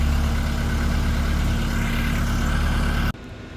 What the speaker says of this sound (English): A little bit of valve train noise yet, that'll clear up.